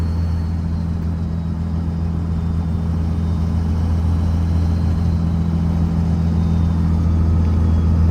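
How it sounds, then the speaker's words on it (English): A second-generation Dodge truck engine running steadily with its 48RE automatic transmission locked up, a continuous low, even drone close by with no voices. "There's nothing crispier than a nice 48 RE lockup."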